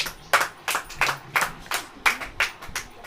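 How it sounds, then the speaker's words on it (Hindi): An audience claps in distinct bursts at a church sermon, roughly eight sharp rounds of hands in an uneven rhythm, fairly close and loud with no talk over them. "ताली बजाइए रविका जी के लिए।"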